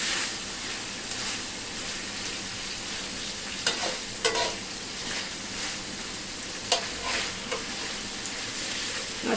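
Mutton for a Nizami mutton masala stir-fried on high heat gives a steady, close sizzle, broken by a few sharp scraping stirs of the spoon through the pan.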